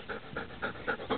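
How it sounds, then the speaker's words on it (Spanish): A female dog pants close by in quick, steady, rhythmic breaths. "Muy guapa la perra."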